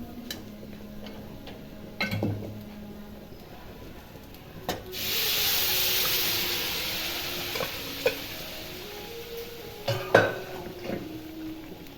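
Goat head curry being stirred in a pot, with scattered scraping ticks and a softer sizzling stretch in the middle, close and fairly quiet, no voices.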